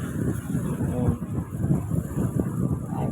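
Steady wind and wave noise on a boat crossing open sea off Phang Nga, a continuous low rumble and buffeting at constant loudness with no voices.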